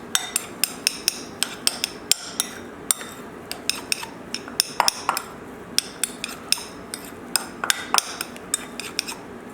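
Utensil clinking and scraping against a pan or bowl while rice is mixed with a butter-based lemon-thyme sauce, a steady series of sharp taps and scrapes, close and fairly loud, with no talking.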